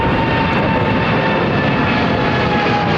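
An Airbus A380 jet on runway 09R at London Heathrow, a loud, steady engine roar up close, constant and unbroken with no voices over it.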